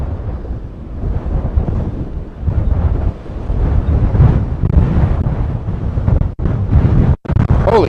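Strong gusts buffet the microphone on a windy street, a loud continuous low rumble that surges and sags for several seconds, with two sharp dropouts near the end where the mic briefly cuts out.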